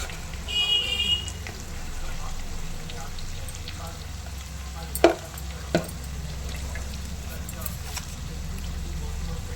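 A spoon stirs spiced prawn and gongura curry with turmeric and chili powder in a pan, giving soft scraping and gentle bubbling with a couple of sharp utensil clinks midway over a low background hum.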